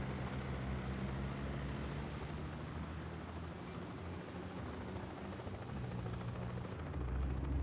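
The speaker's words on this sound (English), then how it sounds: "Bavma's heli is inbound." A helicopter approaches, its rotor and engine a dense, steady roar close and loud throughout, with a low throb that grows slightly stronger near the end.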